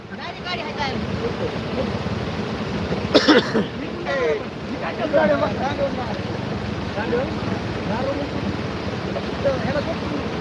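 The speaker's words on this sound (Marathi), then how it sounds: "हे बघा पाणी भरपूर वाहत" Heavy floodwater rushes and churns steadily as a vehicle drives through a flooded road during monsoon rain, a loud continuous wash with brief splashes, while people talk over it.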